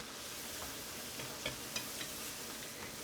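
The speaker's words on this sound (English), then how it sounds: "I'm going to stir it up and cook it and make a roux" Flour being stirred in a pan to cook a roux for smothered pork chop gravy, a faint, steady scraping with a soft sizzle and a couple of small clicks, no talking.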